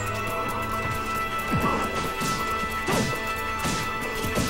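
Little Mac's forward smash attacks landing in Super Smash Bros, a few sharp crashing impacts with whooshes spread over a busy, steady game-sound bed.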